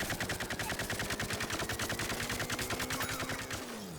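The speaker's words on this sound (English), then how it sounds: "This gun has the longest overheat time, so I can shoot forever" Rapid, continuous automatic fire from a weapon in Plants vs Zombies Garden Warfare sounds as an even stream of evenly spaced shots, close and loud, stopping near the end.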